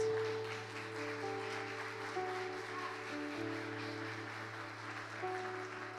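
A church congregation applauds during a Sunday morning service, with steady, fairly soft clapping under sustained organ or keyboard chords.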